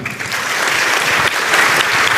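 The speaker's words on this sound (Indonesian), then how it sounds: "Tepuk tangan." A campus lecture audience of cadets breaks into loud, sustained applause: a thick, even roar of many clapping hands lasting the whole moment, with only faint voices underneath.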